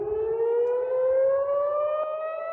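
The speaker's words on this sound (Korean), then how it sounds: "미사일이 잇따라 날아오르자 사이렌 소리가 요란하게 울려" An air raid siren wails continuously with a slowly rising pitch, loud and steady, sounding alone with no voices, in Israel during an Iranian missile attack at night.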